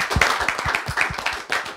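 A small group claps for themselves at a congratulatory gathering, a short burst of rhythmic, fairly close handclaps with no talking over it.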